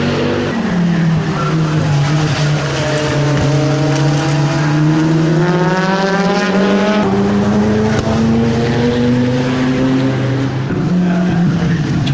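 A Ferrari 458 and a pair of BMWs race at Brands Hatch in a 2012 Britcar event, with loud, continuous engine roar whose pitch sweeps and climbs through the gears as the cars pass close by.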